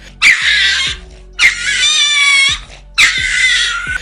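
A cat lets out three loud, drawn-out angry yowls at a dog close by, each a harsh screech separated by short pauses.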